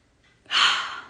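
A single deep inhalation, soft at first and then swelling into a loud, airy rush of breath drawn in close to the microphone for about half a second.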